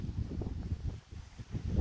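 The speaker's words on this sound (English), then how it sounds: "It's windy, drizzly, rainy, misty, no visibility" Low, buffeting wind rumbles against the microphone in uneven gusts on the misty, drizzly summit of Datun at night as a typhoon approaches, with a brief lull partway through.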